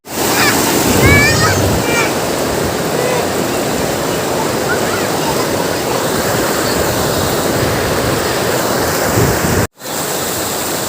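Loud, steady rushing water of a river in Tabaco, Albay, flows continuously, with a voice speaking briefly over it near the start.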